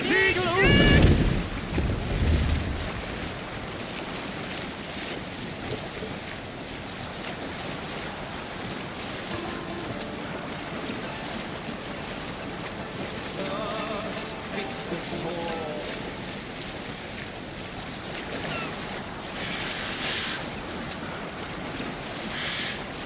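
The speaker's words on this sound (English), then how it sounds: "Need to row our way out. Sail is ready when needed. Sail out!" A Viking longship at sea in Assassin's Creed Valhalla: steady wind and rushing water around the hull with a loud splash or creak at the start, continuous ocean ambience throughout, with faint voices now and then.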